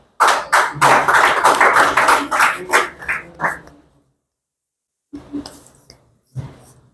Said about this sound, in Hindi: वेद प्रकाश के लिए कम ताली बजा।